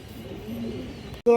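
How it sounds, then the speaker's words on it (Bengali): A white-bodied, black-tailed male pigeon coos in a low rolling murmur, close, followed by a sharp louder noise at the end. "নর কবুতর"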